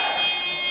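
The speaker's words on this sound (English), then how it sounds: "The buzzer goes, and we're about to carry on in 5 seconds." A handball game buzzer blares as one steady electronic tone for under a second at a men's Premier Handball League match at Gunnersbury Park Sports Hub, with no talk.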